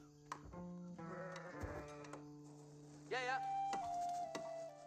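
Sheep in Age of Empires 4 bleat several times, short wavering cries that come one after another over quiet game ambience.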